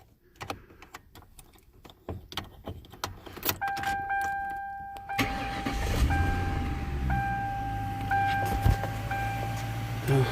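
Clicks and jangling keys come first, then the engine of a 1999 Mercury Grand Marquis cranks and catches, settling into a low steady run.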